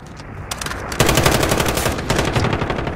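Rapid automatic gunfire crackles loudly in a video game survival mode, with bursts of shots building in intensity and continuing almost without pause.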